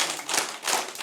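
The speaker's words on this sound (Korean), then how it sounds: "박수 3번 시작." An audience at a morning Bible lecture claps together in a quick counted burst, three fairly close, soft, broad claps in about a second with no talking.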